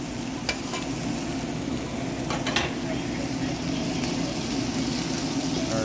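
Garlic, together with ginger, sautés and is stirred in a pan. A constant loud sizzle with a low steady hum runs beneath a few sharp clicks of the utensil against the pan.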